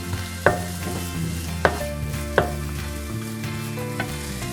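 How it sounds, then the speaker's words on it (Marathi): Red onion frying and sizzling in a pan for a Malvani onion-coconut vatan, a steady sizzle with a few sharp stirring clinks at intervals, no talking. "आपण त्याच्यात आधी हा कांदा छान फ्राय करून घेऊया"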